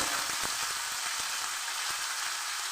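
Ginger paste sizzles in hot oil in a pan, a continuous bright hiss with small crackling pops, close and steady, without voices.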